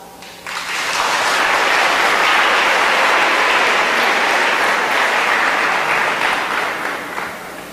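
A debate audience applauds loudly and steadily, a dense wash of clapping that swells in after a brief lead-in and holds for several seconds before easing slightly at the end.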